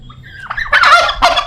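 A turkey in a zoo gives a loud, close, rattling gobble in two quick bursts, heard on its own with no talk over it.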